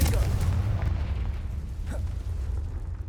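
A Confringo fire spell explodes in Hogwarts Legacy, a heavy low rumbling boom that fills the moment and slowly rolls off, with faint spoken chatter beneath.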